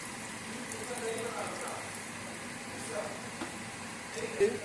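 Homemade pani puri sizzle steadily in hot frying oil, a soft continuous crackle with occasional louder pops close by.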